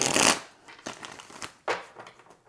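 Tarot cards are shuffled in a loud riffling burst at the start, then several shorter crisp card-slapping flicks follow at intervals, close and alone with no talk.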